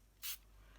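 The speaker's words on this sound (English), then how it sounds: "You spray it" Spray bottle misting water onto a card: a single short hiss of spray, close and soft, in a quiet setting.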